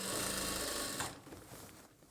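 A sewing machine stitches a straight seam on a churidar bottom, a loud, fast, close whirring run for about a second before it stops and leaves quiet handling noise.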